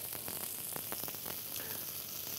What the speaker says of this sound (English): we're just going to sear that on all sides and give it a nice high temperature